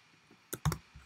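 A few quick computer keyboard keystrokes click sharply in close succession in a quiet room.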